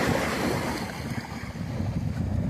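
Steady rushing of sea surf washing onto a shore at the coast, with broad wind noise buffeting the microphone throughout.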